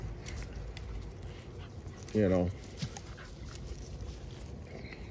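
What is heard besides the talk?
dog whimpering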